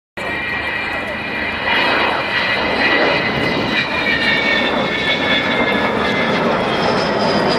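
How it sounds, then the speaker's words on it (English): An Avro Vulcan bomber jet flies over with a loud, sustained roar and whine that builds and holds throughout, with a voice speaking beneath it. "The Americans used to call her the aluminum overcast because when she flies over"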